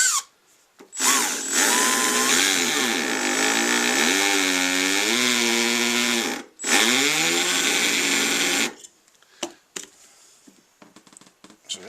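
Power drill boring into a shaft on a Ski-Doo Expedition snowmobile during a bearing and suspension repair, a loud steady whine with its pitch rising and falling under load, a brief stop near the middle, then quiet clatter at the end.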